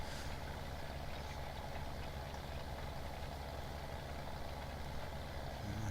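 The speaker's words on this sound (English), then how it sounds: "struggling a little as we go up the hill, but that's to be expected with any tractor" A 1965 tractor engine labours uphill across a farm field, a steady loud low rumble with a fast even pulse that holds constant throughout, close by and with no talk.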